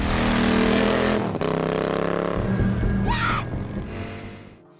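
Motorcycle engine revving loudly and pulling away in a film scene, the roar dropping and fading as it leaves, with a brief high squeal near the end.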